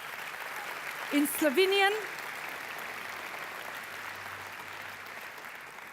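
Audience at a conference in Ljubljana, Slovenia, applauding softly and continuously at a distance, with a brief spoken phrase rising over the clapping early on.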